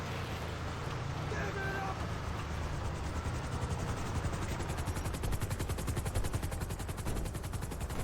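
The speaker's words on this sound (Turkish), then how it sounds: "Okey hemen helikoptere binin Büyükelçim" Helicopter in the game GTA 5, a thick, loud rotor thrum that grows into a rapid chopping beat, mixed with bursts of gunfire and heavy background noise.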